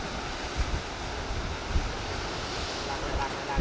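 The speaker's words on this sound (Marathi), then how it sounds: "पाणी जोरात आहे त्या साईडला" Rough sea water at Harnai port, a continuous roar of surf and rushing water with wind buffeting the microphone and a few louder swells breaking through.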